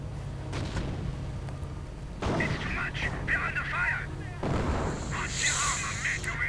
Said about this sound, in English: And the rocket half-track just keeps on firing.